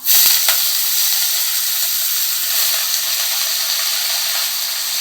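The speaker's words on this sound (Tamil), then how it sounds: "இது வந்து கீரை போடுறேன்." Sukkuti greens dropped into a pan of frying onions give a loud, steady sizzling hiss that stays close and constant, with a brief knock near the start.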